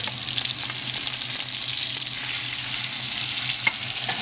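Sirloin steak searing in a very hot pan gives a loud, constant sizzle and crackle close up, with a low steady hum beneath and a few sharper pops near the end.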